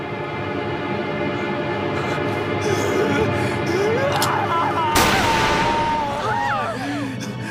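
A film scene in a kung fu drama: a sharp gunshot cracks out loudly over a dense rumbling background, with shouts and dramatic score swirling around it before and after the blast.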